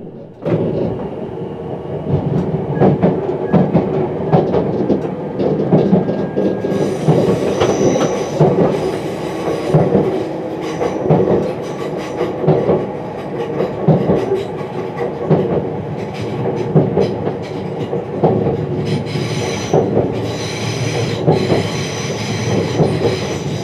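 A train runs continuously on the rails over the Old Oak Lane Bridge across the Grand Union Canal in London, with a steady rumble and rhythmic clatter, and brief high wheel squeals coming and going throughout.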